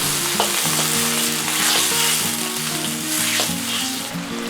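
Sauce stirred into a Chinese spicy shrimp stir-fry with peppers and brought to a boil, giving a loud, continuous close-up sizzle with brief scraping stir strokes and no talking.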